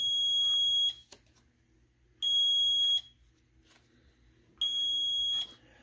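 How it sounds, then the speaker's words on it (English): A fiber-optic security alarm around a platform sounds three loud, shrill electronic beep bursts, each under a second long and evenly spaced, with quiet gaps between them. "it will send off the alarm."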